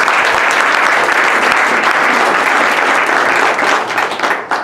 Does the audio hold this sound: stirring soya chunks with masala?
no